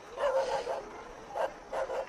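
A village dog in Nepal gives a string of short barks and yips, a cluster near the start and two more toward the end, moderately close and clear against a quiet background.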